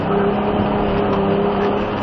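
A Ford Ranger Raptor truck engine runs steadily under throttle during an off-road driving school, a continuous loud, close drone with no talk over it.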